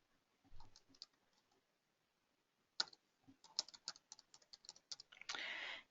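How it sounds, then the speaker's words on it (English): Fingers tap on a computer keyboard while emails are entered, soft irregular clicks and short flurries of keystrokes separated by pauses, ending in a brief rattling burst, faint and close. "I'm going to type in a couple of emails."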